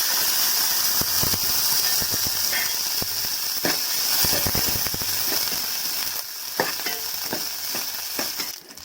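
Raisins fry in ghee with a steady, close sizzle and hiss, broken by occasional stirring clicks against the pan.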